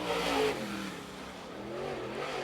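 An outlaw late model race car engine roars around the Sumter Speedway oval during qualifying, the note swelling and fading as it sweeps through the turns, steady and fairly loud.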